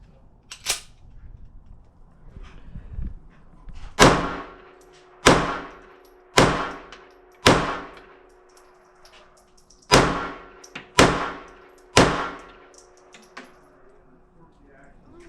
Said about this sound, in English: We'll do 4 shots two-handed, 3 shots, 3 shots.